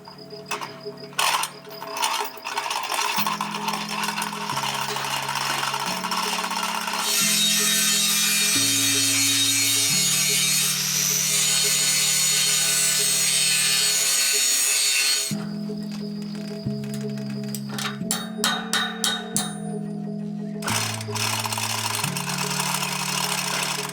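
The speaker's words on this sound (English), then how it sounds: "So we just need to lift the beam off so we can grind it down." Grinding down a wooden veranda beam for a stone cabin, a loud continuous power-tool drone with shifting pitch, interrupted by bursts of rattling and knocking.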